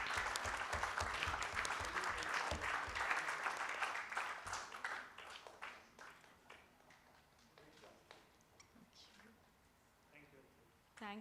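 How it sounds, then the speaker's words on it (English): An audience at a conclave applauds a mentor, a full burst of clapping with some rhythmic beats that thins into scattered claps, fading as a voice starts speaking near the end. "So please, a big round of applause for him."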